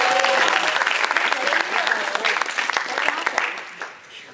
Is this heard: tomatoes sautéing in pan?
no